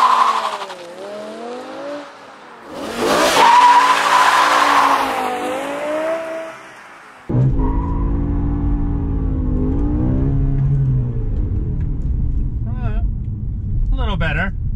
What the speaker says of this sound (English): we can do a burnout or two.